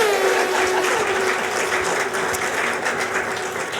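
Audience applause at a public talk, a steady broadband wash of clapping that holds fairly loud and even for nearly four seconds, with a faint sustained tone beneath it.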